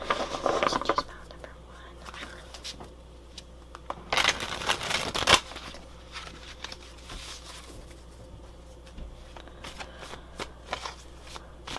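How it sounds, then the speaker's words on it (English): Tarot cards being shuffled by hand, several short riffling bursts with one louder, longer shuffle in the middle, close and crisp, amid quiet scraping and light handling sounds. "So I'm going to go ahead and start shuffling."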